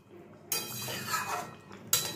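A lid set onto a cooking pot of egg curry lands with a sharp metallic clink, followed by a brief clattering rattle and a second clink near the end, close and fairly loud with no talking.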